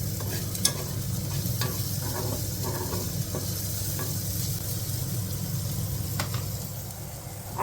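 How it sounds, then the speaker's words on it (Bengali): Vegetables and soybean chunks frying for millet noodles make a continuous close sizzle with a low hum beneath and occasional light clicks of stirring, no talk. "এই যে সবজি আর সয়াবিনটা ভাজা করছে"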